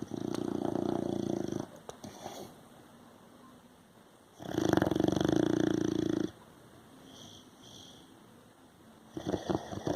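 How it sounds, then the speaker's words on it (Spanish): A sleeping dog snores close by, with loud, rough inhaled rasps recurring every few seconds and quieter breathing between them. "¿Quién dijo que los perros no roncan?"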